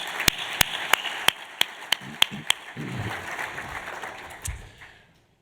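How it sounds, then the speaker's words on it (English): Applause at an awards dinner, heard as a series of loud, evenly spaced claps near the microphone that give way to softer, diffuse clapping from the room before fading out. "let's give both professors one more big, deserving round of applause"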